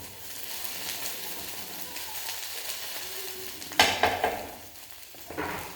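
Five eggs are stirred up for a crustless quiche, with a soft ongoing sizzle of cooking and sudden bursts of utensil clinks and scraping against the dish near the end.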